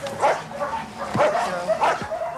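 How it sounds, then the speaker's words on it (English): Guard dogs, fierce Alsatians at a kennel near Rome, bark in a series of loud, close barks, three main bursts spaced about a second apart with softer yips between. "Guard dogs are trained to maul unexpected attackers."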